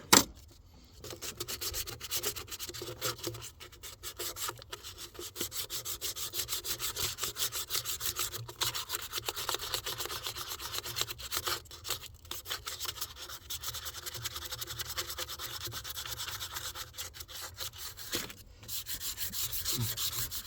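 Steady scraping and rubbing of a knife blade across a metal mounting surface around a bolt on the EGR area of a 2012 Ram 3500 with the 6.7 diesel, continuous and close, with short pauses and no talk.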